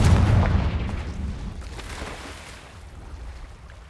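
In the Hogwarts Legacy video game, a Confringo blasting spell explodes in a deep, close boom right at the start, then rumbles and fades away steadily over the next few seconds.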